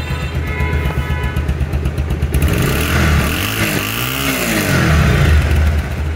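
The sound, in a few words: Bajaj Pulsar double disc ABS motorcycle engine revving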